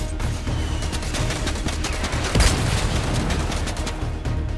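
Dense, continuous minigun fire rattles through a Fortnite match, rapid shots blending into a steady roar with one heavier boom midway, loud and close throughout.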